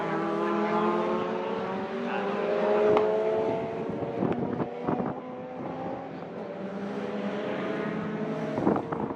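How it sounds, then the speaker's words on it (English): A deep, rumbling Vauxhall V8 engine, an LS3, drones steadily at a modified car meet, rising and falling in pitch as it revs, with wind buffeting and occasional sharp clicks mixed in. "I believe those have a LS3 engine in it, so they sound lovely and rip very well too"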